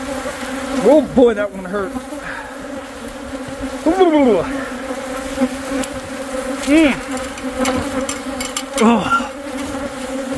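Angry bees swarm and buzz around a hostile hive, a steady dense drone with sharp whining passes as individual bees zip close, while a stung person groans and speaks in pained bursts.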